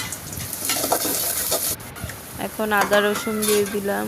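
Chopped onions with ginger and garlic fry in a pan for beef curry, crackling softly while a utensil stirs and scrapes against the metal. A voice speaks over the cooking toward the end.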